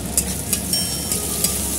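Onions hit hot fish oil with nigella seeds in a pan and fry with a loud, continuous sizzle, broken by a few brief crackles and pops, close up.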